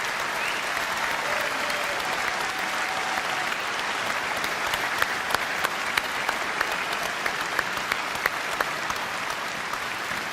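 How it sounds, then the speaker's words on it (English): A large conference audience in Birmingham breaks into a long, steady round of applause, dense clapping from many hands that holds evenly throughout, with a few sharper individual claps standing out near the end. "Please give them a big round of applause"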